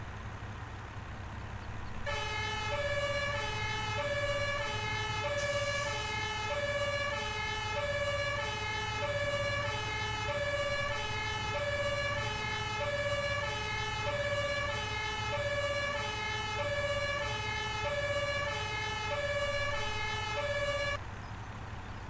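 A German LF Katastrophenschutz fire engine in Farming Simulator 17 sets off on an emergency call, its two-tone siren alternating steadily and loudly for about twenty seconds over a low engine rumble, with no talking.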